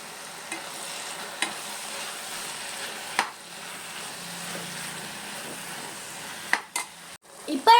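A spoon stirs chopped palak spinach into a frying curry gravy in a pan, giving a soft continuous sizzle with occasional scrapes and clinks of metal against the pan, close and steady.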